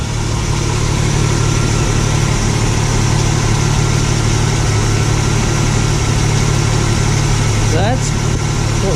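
A Jeep engine idles steadily at close range, a constant loud low hum and drone with no change in pace, while its temperature is checked for overheating.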